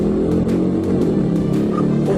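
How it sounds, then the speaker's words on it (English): Car engine droning loud and close as the driver speeds away from a police officer on Cortez Avenue, a steady low rumble with faint rhythmic thumps over it. "Instead, the driver sped away, resulting in a chase westbound on Cortez Avenue."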